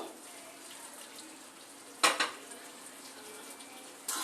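Soaked fish roe goes into a pan and is stirred, giving a sharp metallic clatter and scrape against a soft background hiss, with a second knock near the end.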